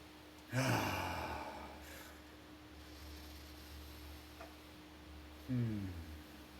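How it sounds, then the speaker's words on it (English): Two deep breaths, a full belly inhale and a long exhale during a guided breathing exercise, each a soft airy rush several seconds apart over a steady low hum and quiet room tone. "take a deep, full belly breath in. Full exhale. A deep breath in."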